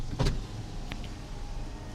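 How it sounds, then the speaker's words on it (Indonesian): Power windows on an AION UT electric car: a brief motor whir near the start and a short second movement, faint and close inside a quiet cabin. "semua window sudah auto up and down"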